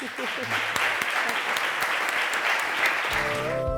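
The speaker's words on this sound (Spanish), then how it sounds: "Vamos a darles un aplauso enorme" Full, continuous audience applause fills a round-table event on restaurant talent management, dense and steady throughout, with a brief musical tone entering at the very end.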